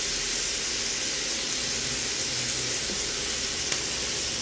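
Small teeny scallops sizzling in a hot pan, a steady, loud, close frying hiss that continues without a break.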